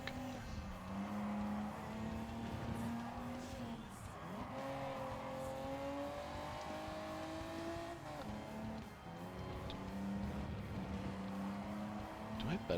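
Race car engine in Gran Turismo 7 revving and shifting pitch as the throttle is feathered through corners, with faint tyre noise, loud and continuous throughout.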